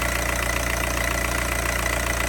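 A VW ALH TDI diesel engine runs with a steady, rough, knocking drone, held at a slightly raised idle rather than climbing, close and loud with no voices.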